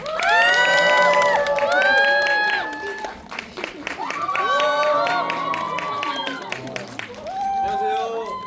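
Audience at a Korean horror film premiere stage greeting in a CGV Yongsan cinema hall cheers and claps loudly, with shrieks and excited shouts rising in waves over several seconds.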